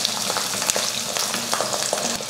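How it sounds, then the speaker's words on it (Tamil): Whole small shallots and garlic cloves with curry leaves sauté in a pan, a loud, close sizzle with frequent sharp crackles and spatters from stirring and no talking. "இதை வதக்கிடுவோம்."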